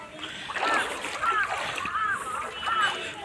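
Water splashing and sloshing inside a flooded house, several rhythmic surging splashes close by as someone wades through, with faint voices mixed in.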